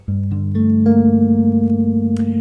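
Low bass notes are plucked one by one and build into a ringing minor chord that sustains evenly until a faint click near the end.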